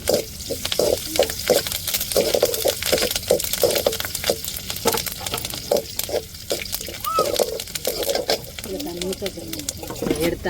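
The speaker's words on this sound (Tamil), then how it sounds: "இப்போ கருவேப்பிலை சேர்த்துக்கிடுவோம்" Curry leaves hit hot oil already holding chopped onion for tempering, crackling and sizzling steadily with rapid popping spits, close and fairly loud, while a voice talks over it.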